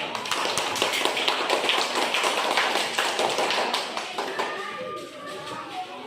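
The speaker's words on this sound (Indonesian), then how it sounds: "Tepuk tangan untuk kelulusan." Students in a classroom clap for classmates after a biology lesson, with rapid overlapping claps and taps that run steadily, then soften toward the end amid some shuffling.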